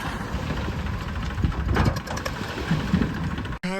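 An Eicher tractor engine running with a steady, close, throbbing rumble that holds for a few seconds and then cuts off abruptly.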